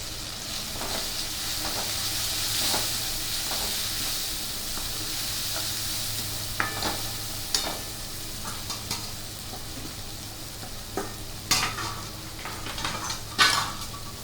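Spices sizzle and fry in a hot pan for Kathiyawadi-style bateta poha, a steady hiss with occasional sharp crackles and stirring clinks scattered through, close and moderately loud.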